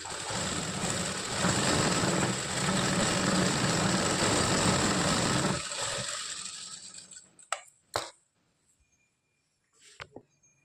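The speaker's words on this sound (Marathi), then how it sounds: "असं एवढ्या अंतराने टिपा मारून घ्यायच्या" A sewing machine stitches a blouse, running steadily for about six seconds as a dense whirring hum, then stopping, followed by a few short isolated clicks and taps.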